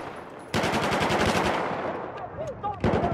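Shotgun fire in Battlefield 4 rings out as a rapid string of gunshots, fairly loud and echoing, with a second burst near the end.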